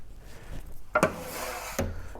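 A few sharp scrapes and rubbing strokes on guitar wood as resin is scraped off, two distinct louder passes with quieter friction between, close by and without speech.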